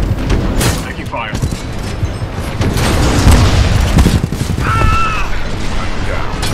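Gunfire in the first-person shooter Titanfall 2 rattles in dense bursts and booms, with mechanical clanks, while voices talk over the combat throughout.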